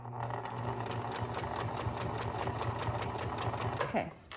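Close sewing machine stitching a homemade fabric face mask, a fast steady rattling run of needle strokes that slows and stops near the end.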